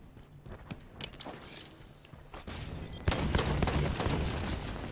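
Halo 5 Big Team Battle capture-the-flag match with scattered gunshots, fainter at first, then heavier sustained automatic fire building after a couple of seconds, mid-distance and fairly loud.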